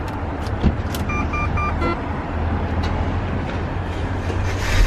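A used Range Rover bought unseen at auction cranks and its engine catches, then settles into a loud, steady rough running rumble close by, with a brief electronic chime early on.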